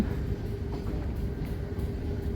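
A train in Narsingdi, Bangladesh, slows down, giving a steady low rumble and rattle of rolling carriages close by throughout, with no voices.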